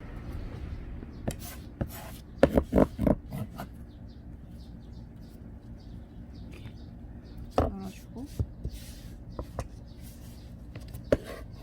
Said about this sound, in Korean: 파를 총총총총 썰어줄게요